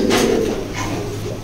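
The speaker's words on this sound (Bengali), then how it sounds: "বেবিগুলো অনেক ভালো লাইনের কবুতর।" Young racing pigeons from pedigree lines coo close by, a soft, low throaty call rising and trailing off, with faint bird movement around and no talk.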